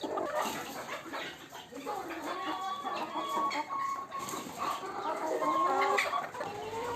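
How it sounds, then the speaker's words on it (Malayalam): Native chickens in a rooftop coop cluck and squawk continuously at close range, a busy overlapping chorus of calls, with a voice speaking now and then underneath. "ഈ കൂട്ടിലുള്ളത് നാടൻ കോഴികൾ തന്നെയാണ്"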